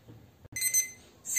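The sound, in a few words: kitchen timer alarm going off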